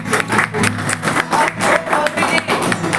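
Teachers clapping together at a maths in-service training session, a steady patter of many hands with rhythmic peaks, close and fairly loud.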